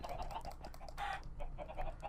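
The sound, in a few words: chickens clucking in video game Minecraft (FTB modpack)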